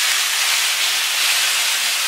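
Courgettes cook in a hot pan as their water steams off, giving a loud, steady, close hiss of sizzling with no talk over it.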